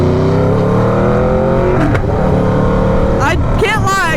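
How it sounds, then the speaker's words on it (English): An Aprilia RSV4 1100 Factory motorcycle with an SC Project exhaust roars loud and close, holding a high engine drone before it dips and then rises again. Excited talk comes in over the engine near the end. "the SC Project exhaust might be a little obnoxious"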